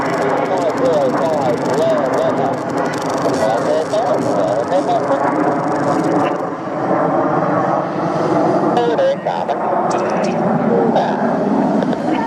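Several RAF Red Arrows Hawk jets fly a formation air display at an airfestival, their engines giving a loud, steady roar throughout with crowd noise mixed in.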